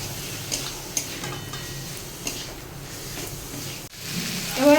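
Onions sautéing and being stirred in a pan while making egg chilli, a soft continuous sizzle with occasional scrapes and taps of a spoon, close and fairly quiet, no talking.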